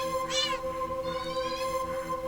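A cat meows in a video game, one clear rising-and-falling meow near the start and then a longer, softer whining meow. Both sound close and sit over a steady electronic tone, with no talking.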